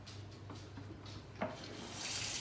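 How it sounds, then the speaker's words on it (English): Cool tap water runs into an opened can as it is rinsed, a soft steady splashing stream with a brief sharper splash midway and a brighter rushing hiss near the end, fairly quiet. "I'm gonna rinse it with cool water, just right in the can here."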